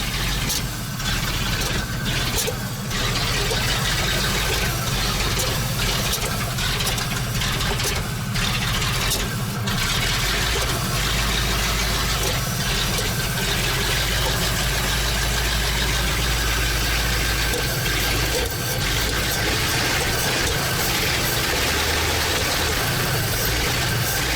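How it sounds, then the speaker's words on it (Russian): A ZIL truck engine idles loudly and continuously, with a rough, uneven running and occasional pops as it backfires into the carburetor. "Что-то стреляет в карбюратор."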